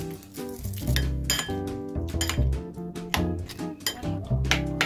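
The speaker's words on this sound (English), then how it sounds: "Let us stir." A utensil stirs microwave popcorn in a bowl, giving repeated clinks and scrapes of metal against a dish. The clatter is close and uneven over a musical backing, with no talking.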